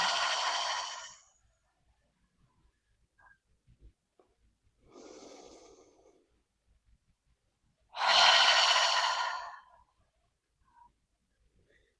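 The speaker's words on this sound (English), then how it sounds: "Inhaling deeply, exhaling, audible sigh out." Deep breaths in and out during a gentle morning yoga session: a strong exhale, a softer breath a few seconds later, then another long audible sigh, close and clear in a quiet room.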